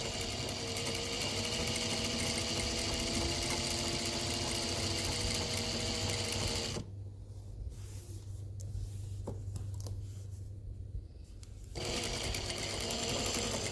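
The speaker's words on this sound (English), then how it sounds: "Do a locking stitch, and I'm going to start sewing the binding down." Sewing machine stitching premade binding down onto a quilt, running steadily and loud for about seven seconds, then stopping briefly with quiet handling sounds before starting up again.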